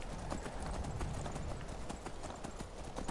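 Horse hooves clip-clopping in the Skyrim video game, a quiet steady rhythm of repeated hoof strikes running throughout, with no talk over it.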